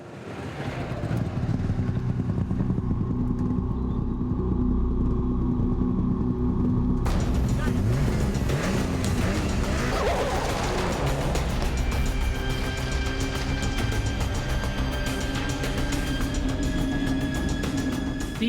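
Rally cars compete in the Tour of Cumbria in the hills of northwest England, engines roaring loud and close in a continuous rumble, with a sharper, higher-pitched engine note cutting in partway through and holding to the end.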